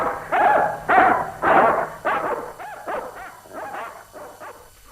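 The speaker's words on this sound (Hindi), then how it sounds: "अरे लेकिन तुम उन कुत्तों को रोको भाई, बड़े खूंखार दिखाई देते हैं।" Several fierce-sounding dogs in a Hindi radio play bark in a rapid series of about nine loud barks that gradually fade and soften, with no talking over them.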